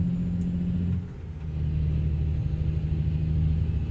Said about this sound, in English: the Jake brake will sound the same on every truck because the Jake's a brand of engine brake